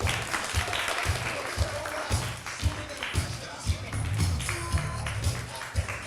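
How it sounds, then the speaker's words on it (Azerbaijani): Audience at a talent show clapping in a steady rhythm of sharp, evenly spaced claps over a general crowd murmur, with voices mixed in. "Alqışlayın."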